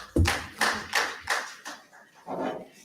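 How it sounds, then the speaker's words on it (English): A handful of separate claps from an audience at a forum on private sector and political financing in Africa, sparse and uneven with gaps between them, fairly quiet. "Another round of applause"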